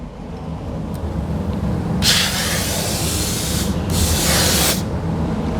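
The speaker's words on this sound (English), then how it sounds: "Again, we're going to spray that bottom seam like we did on the hatch." Mopar rust proofing sprayed as a fine mist onto a vehicle's bottom seam, two close hissing bursts of about two seconds each over a steady low background rumble.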